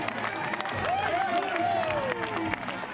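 Crowd at the Ironman New Zealand 2008 finish line in the rain, cheering and applauding at a moderate distance, a busy wash of clapping and voices with one rising shout standing out.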